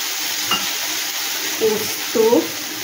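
Pointed gourd seed paste ground with green chili goes into a hot pan, a steady background sizzle punctuated by a couple of stirring scrapes and splutters toward the end.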